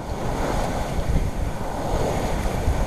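Wind and breaking sea surround a sailboat under sail at night on a passage from Palermo to Porto-Vecchio, a steady loud wash of waves and gusting wind noise with no voices.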